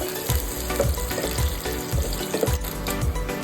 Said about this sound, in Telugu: అలాగే పచ్చిమిర్చి వేసి బాగా ఫ్రై చేయాలి